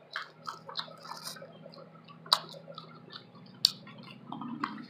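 Close, crisp chewing of Popeye's fried shrimp, with soft wet mouth sounds, a few sharp crunchy bites and faint background hum, no talking.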